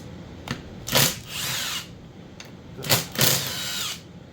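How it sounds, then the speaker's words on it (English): A power driver works fasteners while the carburetor comes off a McCulloch PM 700 chainsaw, two close whirring bursts, each a short spin followed by a longer run. "the first thing we're going to do is we're going to get the carburetor off of it."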